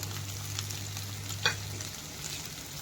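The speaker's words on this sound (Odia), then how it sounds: "ଏବେ ଭଜାରେ ପିଆଜ କାଟି ରଖିଛି ତାକୁ ଦେଇଦେବି।" Chopped onion frying with bitter gourd in a pan, giving a steady close sizzle with a brief clatter of stirring midway and a low hum underneath for the first part.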